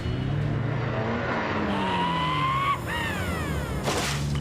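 A Tomcar, a light Israeli-designed, Australian-built off-road vehicle, driven fast. Its engine roars steadily with rising and falling pitch, and a sharp whine sweeps up near the end.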